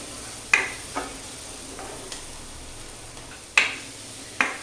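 Onions for tomato soup sauté in a pan with a soft, faint sizzle, while a utensil scrapes and clicks against the pan several times at irregular intervals.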